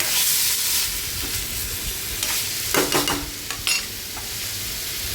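Stuffed bitter gourds coated in spiced masala are stirred with a little water in a hot pan. A steady sizzle runs throughout, broken by a few sharp scraping strokes of the spoon, all close and fairly loud.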